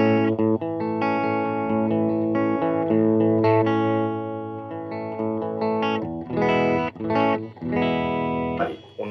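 Electric guitar played through a Golden Valve distortion pedal switched on with its volume turned down, giving a fairly clean, warm tone. Sustained chords ring and are restruck several times, loud and close, with no talk.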